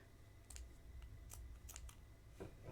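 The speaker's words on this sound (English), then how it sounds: "So I'm going to go ahead and cut my yarn." Scissors cutting crochet yarn: a few faint, crisp snips spaced out over a steady low hum, very close and quiet.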